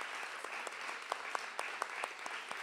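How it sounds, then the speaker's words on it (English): Applause from an audience at a literary reading series, thanking the evening's readers; a steady wash of many hands clapping with a few sharper individual claps standing out, moderately loud and continuous throughout. "please, another round of applause for all the readers tonight"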